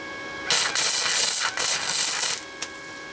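Flux core welding on an exhaust hanger of a 1998 Ford Ranger, with a loud, crackling arc burning in several bursts of about two seconds in total, broken by brief pauses and a short final crackle.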